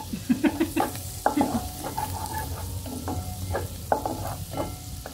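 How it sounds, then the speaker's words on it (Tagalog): Garlic sizzles in melted butter in a pan for buttered garlic shrimp, with repeated close scraping stirs over a steady frying hiss. "Pa-brown lang natin yung ating garlic."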